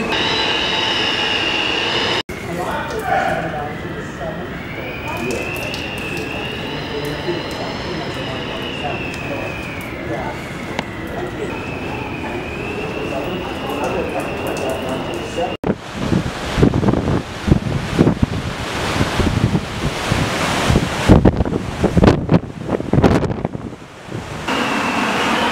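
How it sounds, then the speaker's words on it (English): Powerful wind roars aboard a cruise ship caught at sea in big waves during a cyclone bomb, a loud continuous rush that surges into heavier, gusting bursts. "That's powerful wind."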